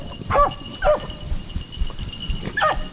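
Beagles baying while chasing rabbits on a Kansas hunt, three short rising yelps spaced about a second apart, moderately near over a rustling outdoor background.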